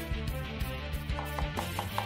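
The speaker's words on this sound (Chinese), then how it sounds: "现在是剁一个馅" Chopping a food filling with a cleaver on a board, rapid close rhythmic thuds repeating several times a second, with no voices.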